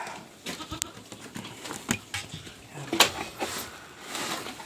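Goats on a farm bleat in short scattered calls amid clattering and shuffling noises, fairly close, with a steady background hum and no clear talking.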